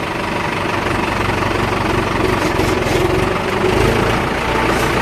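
A tractor sits idling on a mound with a loaded trolley hitched behind, its low diesel engine running steadily and close by for the whole stretch, with no voices over it.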